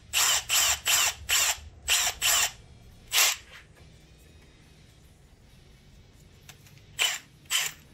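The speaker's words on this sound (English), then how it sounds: "Get my little tiny drill bit here." A small drill with a tiny bit whirs in a quick run of short bursts, falls silent for a few seconds, then buzzes twice more, close by.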